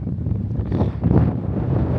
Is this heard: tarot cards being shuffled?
no